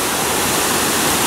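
San Lorenzo creek rushes under a bridge as a loud, steady wash of broadband water noise that stays close and unbroken throughout.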